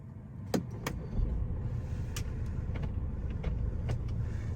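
A BMW X1 xDrive 20D diesel engine idles with a low, steady rumble, heard from inside the car, with a few faint clicks over it.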